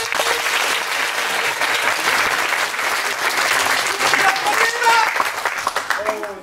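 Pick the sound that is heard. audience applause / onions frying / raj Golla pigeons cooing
audience applause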